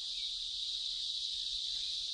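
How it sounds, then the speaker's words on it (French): Male cicada mating song in the Indian wild, a loud, continuous shrill buzzing that holds steady throughout with no pauses. "De tous les insectes, c'est la cigale qui a le chant nuptial le plus bruyant."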